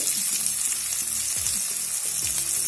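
Onion with cinnamon, star anise, cloves and peppercorns sautés in a pan for aattukaal kulambu, a goat trotter curry, with a constant close sizzle and occasional stirring scrapes.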